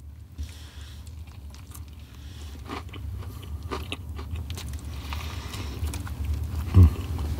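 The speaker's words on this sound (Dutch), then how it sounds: "Eerste hap." Someone takes a bite of a KFC Zinger Double Stacker burger, giving a soft crunch and then steady close chewing under low room noise, with no talk.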